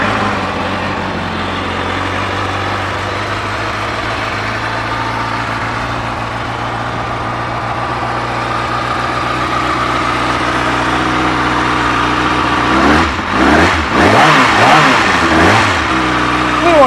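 A 2013 Kawasaki ZX6R 636 Ninja supersport motorcycle engine idles steadily and loudly up close, then is revved several times in quick surges toward the end.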